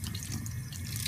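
Water runs steadily from a tap into a basin being filled to bathe a hedgehog, a soft continuous splashing rush at close range with no voices.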